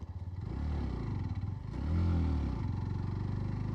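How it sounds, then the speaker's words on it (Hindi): A Hero Glamour X motorcycle climbing a hill in fifth gear, its engine droning steadily with a throaty low rumble that swells slightly midway, heard up close from the rider's position. "अभी मैं स्पीड बढ़ा लेता हूँ, चढ़ाई है और मैंने 5वां गियर लगा दिया है।"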